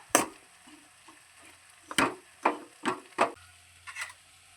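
A utensil scrapes and knocks against a pan while ingredients are mixed, sounding as about six distinct strokes in an uneven rhythm over a quiet background.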